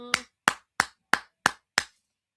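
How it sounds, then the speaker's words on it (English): Six crisp hand claps spaced evenly, close and distinct, with a brief tonal hum at the start and silence between strikes and after the last one. "And I applaud you guys."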